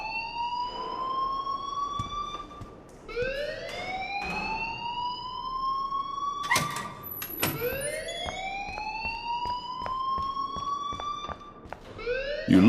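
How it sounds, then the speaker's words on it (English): A school alarm in the video game Life Is Strange wails loudly in repeated rising sweeps, each tone climbing and holding before restarting, with a few sharp clicks and thumps between cycles. "please turn off that alarm since that's your job"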